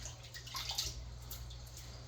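Crab pieces rinsed under running water during cleaning give a soft, steady splashing and trickling, faint and continuous, with a low background hum and no voices.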